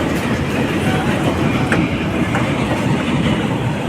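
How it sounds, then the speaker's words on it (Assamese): A train rolls past on a railway near a new bridge close to Nalbari, its dense, loud rumble and wheel clatter filling the whole stretch steadily. "এই ট্ৰেইনো হৈ গৈছে গাই।"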